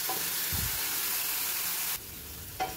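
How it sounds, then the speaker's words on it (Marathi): Spice masala for Shegaon kachori with green chilli paste fries in a pan, producing a steady close sizzling hiss that drops abruptly near the end, followed by a small stir clink. "इथे आपलं हे छान फ्राय होत आहे"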